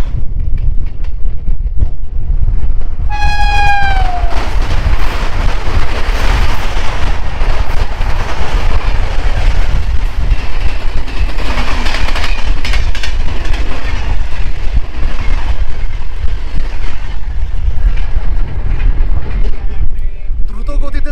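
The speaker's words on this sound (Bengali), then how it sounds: "আর এখানে দেখা হয়ে গেল 15629 নগাঁও এক্সপ্রেসের সাথে।" Nagaon Express passenger train (15629) passing close by at Azamnagar Road station, a loud continuous rumble and rattle of wagons with wind buffeting, a horn-like tonal sweep early on, lasting throughout.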